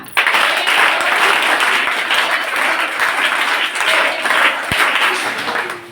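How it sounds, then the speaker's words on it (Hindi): A classroom of students claps together in unison, a loud, dense burst of applause that holds steady for several seconds with no talking over it. "तो एक बार क्लैप हो जाए, एक साथ ताली बजा।"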